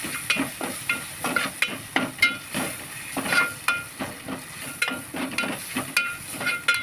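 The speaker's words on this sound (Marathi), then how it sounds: "आता त्यामध्ये आदा लसूणची पेस्ट लसूणची पेस्ट व्यवस्थित तेलामध्ये फ्राय करून घ्यायचे" Ginger garlic paste frying in oil for bottle gourd kofta, a steady sizzle broken by repeated clinks and scrapes of a spoon stirring in the pan, with no voices.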